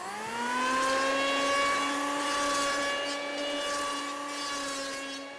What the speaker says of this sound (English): I'm gonna use an electric plane to do it.